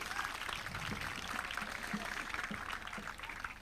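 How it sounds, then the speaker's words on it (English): An audience claps hands at a live broadcast event in Limbe, a steady wash of applause running without pause and fairly loud throughout. "Please clap your hands first of all."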